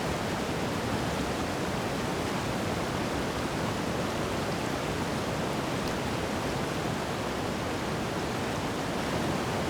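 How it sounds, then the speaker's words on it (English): Steady roaring wind and crashing sea waves form a dense, unbroken wash of noise, loud and constant throughout with no distinct individual sounds. "Hear the roar of the wind and the waves."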